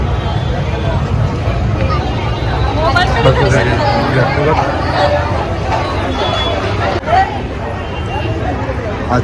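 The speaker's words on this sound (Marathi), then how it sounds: "गर्दी बघा किती गर्दी आहे" A dense crowd at a temple in Titwala on Ganesh Chaturthi, a steady, close wash of overlapping chatter with traffic-like rumble underneath and no single voice standing out.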